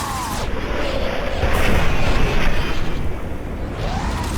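Capacitors bursting under gunfire in Mass Effect 2, a sustained loud, dense explosive roar with rumbling booms and crackle swelling over several seconds, no voices.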